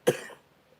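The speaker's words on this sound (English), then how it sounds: "I apologize about the coughing." A single sharp cough, close and fairly loud, with a short throaty tail fading out over about a third of a second, followed by quiet.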